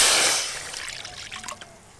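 Water poured into an open pan for banana flower fritters, a brief liquid splash and trickle that fades into faint dribbles over about two seconds, with no talk.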